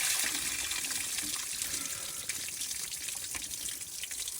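Steady rushing water flushing through the cooling system of a Jeep Wrangler YJ, a continuous hiss and splash with no pauses.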